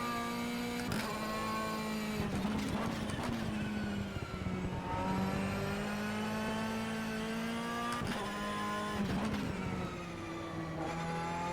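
Ferrari Enzo race car engine in the rFactor 2 racing game, a loud, continuous high-pitched whine that rises and falls as the revs climb and drop through gear changes, with no talking over it.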